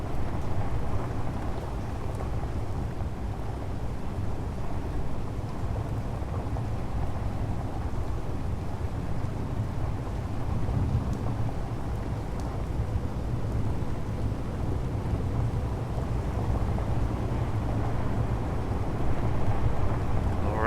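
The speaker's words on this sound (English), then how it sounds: "Oh, it's raining too, isn't it?" Steady rain and rumbling thunder in the video game Space Engineers, a dense continuous wash of downpour with low rolling rumbles throughout, no voices.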